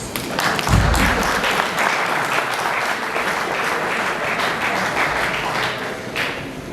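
An audience at a memorial symposium bursts into sustained applause. The clapping is dense and steady for several seconds, with a low thump near the start.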